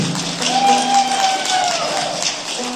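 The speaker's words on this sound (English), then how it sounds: "Put a big round of applause for Jeff Schroeder" Audience applause at Holiday Hills Music Park, a steady wash of clapping from a crowd, moderately loud and continuous for the whole stretch, with a faint tone and murmur mixed in.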